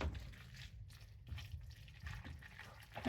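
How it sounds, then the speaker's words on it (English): A splash of pasta water goes into a carbonara pan, a short soft pour with liquid trickling and dripping, close and steady for a few seconds with no one talking over it. "it'll need a splash of pasta water though"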